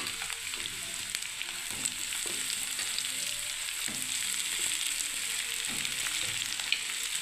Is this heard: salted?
yes